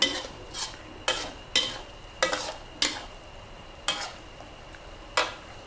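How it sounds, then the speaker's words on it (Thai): Fish balls being stir-fried in green curry paste in a pan, with a sequence of sharp scraping spatula strokes roughly every half second to a second, each followed by a brief sizzle, close up with no talking. "ผัดผัดเขาเรียกผัด น้ำก็จะขลุกคล็ดขลุกคล็กแบบนี้นะคะ"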